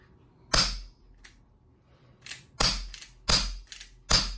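Umarex Western Cowboy CO2 revolver fired in a series of sharp, loud cracks, about five main shots at uneven intervals with a few lighter clicks between them.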